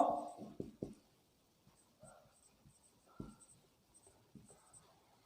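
Marker or chalk writing on a board during a physics lecture, a few quick scratchy strokes up front followed by softer, intermittent taps and squeaks in a quiet room.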